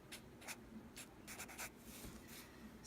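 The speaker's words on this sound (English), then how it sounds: "So we write that down too." Faint scratchy strokes of a pen or pencil on paper as the chemical symbol B for boron is written down. The strokes are short, quiet and close, coming in a loose irregular rhythm.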